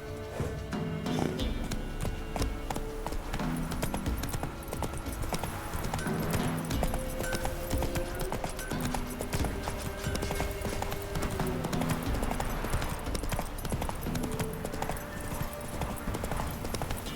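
Roach, Geralt's horse in Witcher 3, clopping along at a steady pace, hoofbeats continuous over a dense bed of game music and ambience, with an occasional whinny; no one talks.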